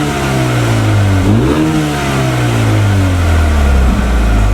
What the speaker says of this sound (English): it's surrounded by a great exhaust, which sounds amazing when you put it in Sport Plus mode